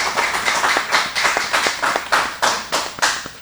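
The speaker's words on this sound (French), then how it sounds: "Je vous demande d'applaudir cette équipe" A small audience claps for a school team at a French-language quiz competition, steady brisk clapping with sharp individual hand strikes, close and fairly loud, continuing without talk.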